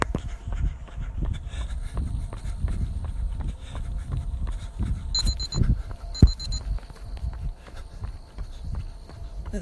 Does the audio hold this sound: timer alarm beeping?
yes